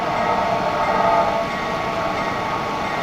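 A freight train runs in the video game Rails Unlimited with a steady, loud rumble and a constant mechanical drone, holding an even level throughout with no voices.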